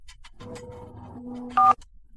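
Telephone dialing tones from a phone, a short run of beeping key tones followed by a brief louder dual-tone beep near the end, with no voices.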